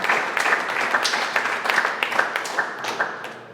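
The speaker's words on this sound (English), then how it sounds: "Give him a round of applause" A group applauds a team award at a company team update, brisk scattered clapping close by, steady for a few seconds then thinning out, with no talking over it.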